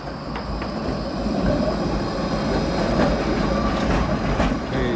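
A number 2 tram in Košice rolling past and turning onto another street, a steady near rumble of wheels on rails with faint clicks and light squeal, no talk.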